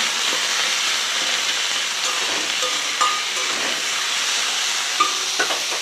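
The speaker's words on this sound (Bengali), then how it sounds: "আলু পেঁয়াজগুলো এখন ভালোভাবে ভেজে নিচ্ছি।" Potatoes and onions frying in a pan, a steady close sizzle with a few faint clinks of stirring, no voices.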